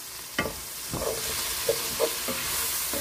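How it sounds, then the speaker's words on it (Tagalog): Chayote and green beans for chop suey sizzling in a pan, a steady close hiss of frying with a few soft stirring knocks scattered through it, and no one talking. "hayaan lang muna natin maluto yung sayote at saka green beans natin"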